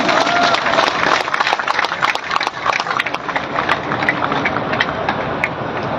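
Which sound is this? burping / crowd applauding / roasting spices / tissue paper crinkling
crowd applauding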